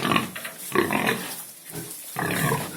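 Several pigs grunt and squeal in a barn in short overlapping bursts, close and fairly loud, with brief pauses between the calls.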